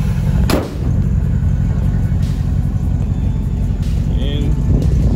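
A Ford Ranchero rumbles low and steady on a short test drive, heard from inside the cab with wind and road noise, a few brief knocks and faint voices underneath.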